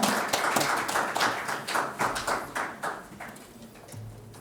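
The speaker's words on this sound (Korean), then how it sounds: "여러분 박수로 맞이해 주시면 감사하겠습니다." Audience at an agricultural policy conference session in Korea claps to welcome a speaker to the stage: moderate, scattered applause with distinct individual claps, fading toward the end, indoors, no talk.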